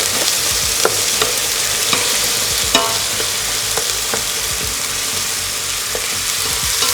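Chopped onion sizzles and fries in hot oil for a pea and meat stew, with a steady loud crackle and occasional scrapes and clinks as it is stirred in the pan, no talking.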